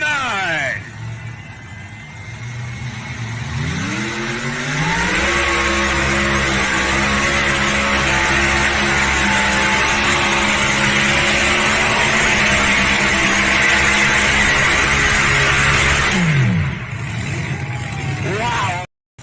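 A competition pulling truck from Georgia roars loudly at a truck pull event. The engine climbs sharply, holds a sustained high-revving bellow, then winds down near the end, with an announcer's voice over it.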